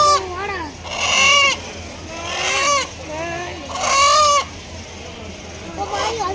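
A young rooster at a temple sacrifice in Madurai squawks and crows in several loud, harsh bursts amid a crowd, with people talking throughout.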